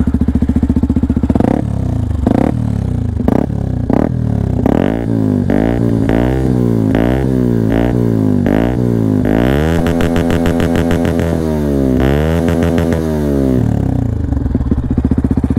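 A Yamaha WR 125 supermoto with an Arrow exhaust and no baffle idles then revs repeatedly, loud and close, with sharp rhythmic blips and a sustained higher rev mid-way, no talking.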